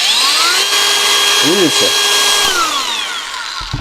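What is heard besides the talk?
ALLSOME PT037-N cordless angle grinder starting up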